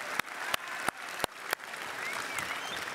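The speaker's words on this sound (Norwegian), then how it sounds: "vi gir en liten klapp til alle med prioriteringen med å være på UL" Audience applause at the UL 2022 gathering in Norway: a few sharp isolated claps at first, then a steady wash of clapping from a crowd, fairly soft and spread out with no talk.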